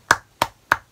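Three sharp hand claps close by, evenly spaced over about a second, each one short and crisp against near silence.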